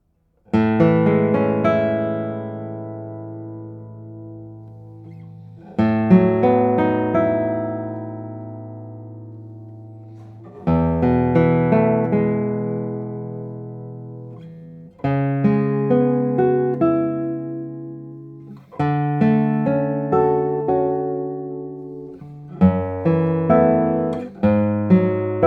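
A double-top classical guitar with Indian rosewood back and sides and a slightly elevated fingerboard rings out in slow, spaced chords, each strummed and left to decay cleanly, played close and alone.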